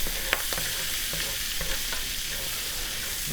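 Onion seasoned with salt and pepper fries in a skillet with a steady, close sizzle, while a utensil scrapes and stirs through it in soft, repeated strokes.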